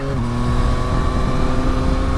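A 2023 Yamaha Tracer 9 GT Plus sports-tourer engine with a quickshifter drones steadily and loud nearby under acceleration, its pitch climbing slightly, with no talk.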